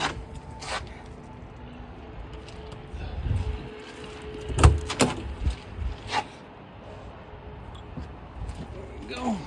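RV baggage compartment doors swing open and shut, giving several close, hollow thumps and latch clunks clustered in the middle stretch over a low background, with a voice speaking now and then.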